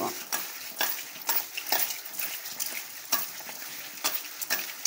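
A spoon stirs gongura prawn curry in a pan with a quick, rhythmic series of scraping strokes, roughly one per second. The scrapes sit close and clear over a soft background sizzle, with no voices.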